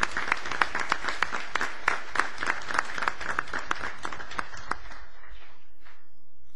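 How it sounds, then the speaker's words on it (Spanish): An auditorium audience at a general assembly applauds with a burst of many hands clapping, which thins out and fades into a few scattered claps before dying away. "Para todos ellos, el más cálido aplauso de este selecto auditorio."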